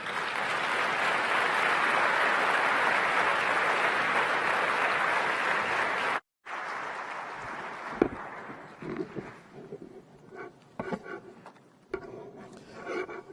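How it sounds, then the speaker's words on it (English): Sustained audience applause fills a conference hall at the closing ceremony of a Kigali tech summit as the President of Niger takes the stage, loud and dense for about six seconds, then a brief cut before thinner clapping and scattered noises trail off. "I'd like us to give a proper round of applause as he takes the stage."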